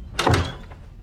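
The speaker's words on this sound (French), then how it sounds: "Je ferme la porte et quand je vais la réouvrir, tu seras juste derrière." A door in a horror film closes with a single dull, muffled thunk, close and short, followed by quiet room tone.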